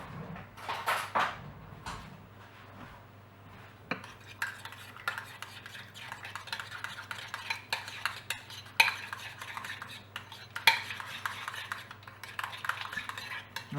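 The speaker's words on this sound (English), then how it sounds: "and get a spoon to mix that all up." A spoon stirring garlic mayonnaise with pepper and herbs in a bowl, producing quick repeated clicks and scrapes against the dish over a steady low hum, close and without speech.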